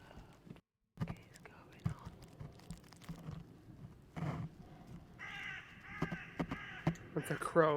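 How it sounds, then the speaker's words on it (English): A crow caws several times outdoors at night, faint and somewhat distant, amid soft rustles and scattered knocks, with hushed voices nearby. "That's a crow."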